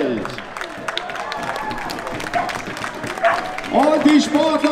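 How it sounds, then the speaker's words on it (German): A crowd applauds the riders at a World Cup nations presentation, with steady, dense clapping and some cheering that swells toward the end while an announcer talks over it. "Einen donnernden Applaus für unser Fahrerfeld."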